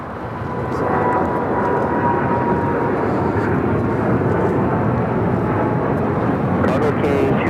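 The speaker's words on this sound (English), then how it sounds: "This is China Cargo Airlines, the Cargo King 222, taking off to Shanghai on the 777 freighter." A China Cargo Airlines Boeing 777 freighter on its takeoff roll at Los Angeles airport gives a steady, loud, broad engine roar that swells in the first second and then holds.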